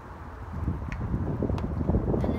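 Steady low rumbling wind buffeting the microphone, constant throughout with faint rustling.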